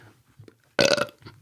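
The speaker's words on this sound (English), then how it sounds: "That belch, incidentally, was not part of my blur thing." A single loud, close belch bursts out alone after a few faint soft sounds, lasting about a quarter second with a rough, throaty rasp.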